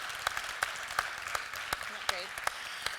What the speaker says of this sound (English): Let's give them all another really great round of applause.